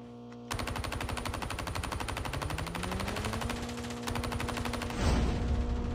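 Rapid automatic gunfire rattles continuously in Call of Duty Mobile, a dense, loud burst sustained for several seconds with a rising engine-like tone beneath, ending in a heavier blast.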